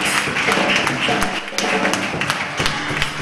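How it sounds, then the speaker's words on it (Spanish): A church congregation breaks into loud applause, a sustained crackle of many hands with sharper individual claps popping through and some voices mixed in. "Dele un aplauso fuerte a Dios."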